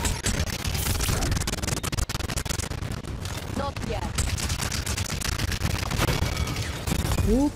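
Dense, continuous gunfire in the video game Paladins, rapid loud shots and blasts rolling almost nonstop across the whole stretch amid busy game effects, with a voice talking underneath.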